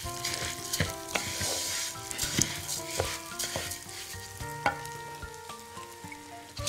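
Rice fries in a pot while it is stirred with turmeric during preparation of shawarma fatteh, a steady sizzle with repeated scraping and clinking stirring strokes, close up with no talking.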